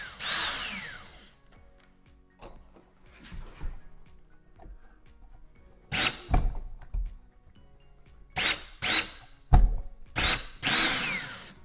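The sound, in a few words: power drill driving outlet mounting screws into electrical box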